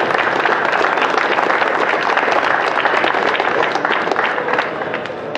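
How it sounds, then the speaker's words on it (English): Loud, dense applause and crowd noise from an audience welcoming motorcycle racer Josh Hayes at a Yamaha media day at the Long Beach Motorcycle Show, sustained and then easing slightly near the end. "Give him a big round of applause."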